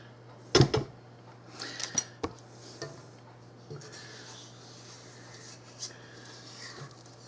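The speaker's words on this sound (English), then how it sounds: "Scrape the sides down a bit." Spatula scraping the sides of a mixing bowl of pineapple dressing or bread pudding batter, a few sharp scrapes and clinks up close, then softer rubbing under a steady hum.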